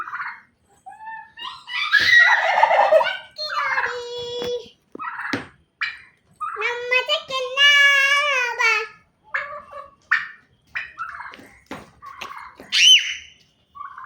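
Young turkey poults, about three to four months old and raised at a home poultry setup, call close by in repeated warbling, gargling chirps and squawks with short pauses between them.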